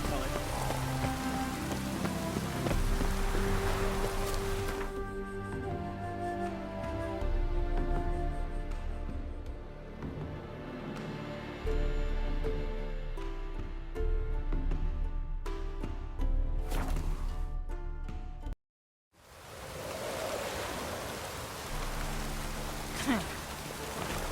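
Rain in The Witcher 3: Wild Hunt falls steadily as a dense patter under game music and ambient sound, cut by one brief silence near the end before the downpour resumes.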